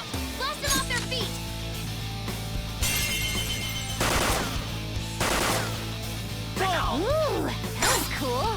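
Gunfire during a Persona 5 video game battle: several loud bursts of rapid shots and crashes, mixed with game voices and music.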